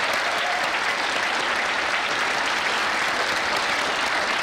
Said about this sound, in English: May I please call for one final round of applause for all five speakers this evening.